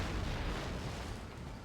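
Cannon fire on an Empire: Total War battlefield, a dull continuous rumble of distant artillery booms rolling together, faint and low.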